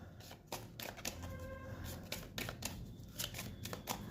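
Tarot cards are shuffled in a steady stream of soft papery riffles and flicks, faint and close.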